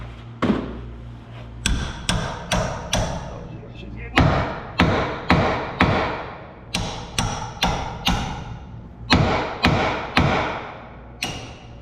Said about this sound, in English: But the old hammer tappy tappy tappy trick works too.